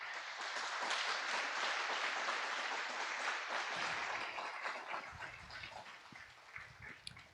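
A church congregation claps together during a Portuguese-language worship service, a dense, steady wash of many hands that gradually thins and fades over the last few seconds.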